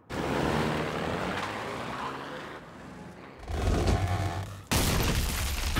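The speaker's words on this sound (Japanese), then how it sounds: "家具が動くどころか自分で爆発しちゃう家があるなんてな。" A house explodes in a Tamagotchi cartoon. Rumbling, crackling blasts fill the scene, with a short lull and then a sudden, loud boom near the end; no one speaks.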